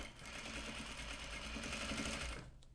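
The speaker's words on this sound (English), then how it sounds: "I think I'll just use my sewing machine to just run a little bit of stitch" A sewing machine stitches fabric in a quick, steady rhythm for a couple of seconds, fairly quiet and close, then stops.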